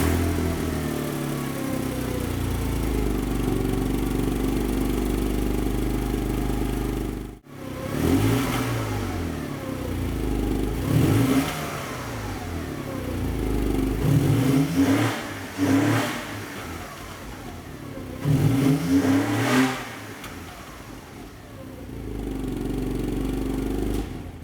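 Porsche Boxster 986 with a drilled, modified exhaust, heard close up: the engine hums at idle, cuts out briefly, then fires back with several sharp revs separated by short idle gaps. No one speaks.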